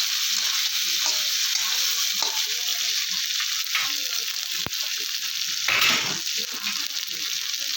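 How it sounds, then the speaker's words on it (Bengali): Tomato and onion fry in a pan with a steady loud sizzle while a utensil stirs and scrapes at intervals, including one sharp tap and a brief louder hiss near the end. "টমেটো দিয়ে একটু নাড়াচাড়া করে দিলাম।"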